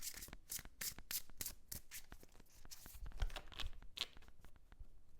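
Rapid riffling of tarot cards, a run of sharp crisp flicks repeated in quick bursts, close and clear with no talking.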